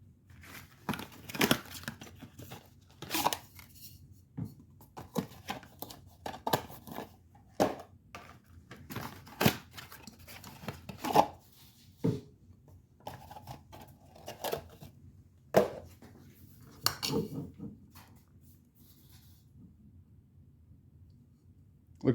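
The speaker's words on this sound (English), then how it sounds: "Take a good look at all four of these filters before I cut them open." Oil filters, a Fram Endurance 10575, a Fram XG10575, a Fram Titanium and a Royal Purple 20-500, get cut open and handled, with a series of close, sharp crinkling and clicking bursts in an uneven rhythm.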